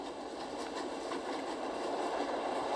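A train races along at full speed in the video game The Raven Remastered, a continuous loud rushing roar with faint rhythmic rattling and no voices.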